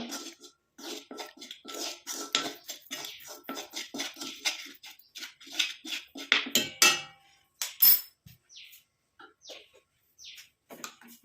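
Hair dye paste being stirred in a bowl, a utensil clinking and scraping against the sides in quick, uneven strokes, close and moderately loud, with no talking.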